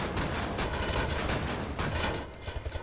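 Dense, loud burst of gunfire from a shotgun in the shooter Wolfenstein: The New Order, with repeated blasts in quick succession filling the whole stretch, the last shots more spaced apart.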